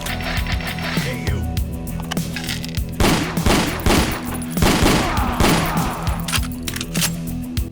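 Rapid semi-automatic pistol fire from an auto loader in the post-apocalyptic game Ashes 2063, loud close bursts of shots over a steady low game-music bed, with no talking.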